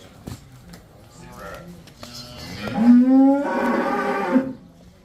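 A cow lets out a long, loud moo close by, rising then holding steady, after some quieter rustling and brief talk.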